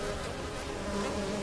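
Bees buzzing in The Witcher 3: Wild Hunt, a dense, steady droning hum of many insects filling the whole stretch at an even level.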